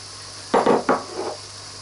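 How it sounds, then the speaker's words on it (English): Chopped onions, carrots and turnips tipped into a stew pot for beef stew, making two or three quick soft thuds and rattles close by in an otherwise quiet kitchen. "the next stage is to put in the onions and the carrots and turnips"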